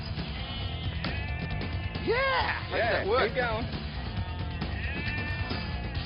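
Sheep bleat several times during handling and worm drenching, wavering cries rising over a steady background rumble while someone talks nearby.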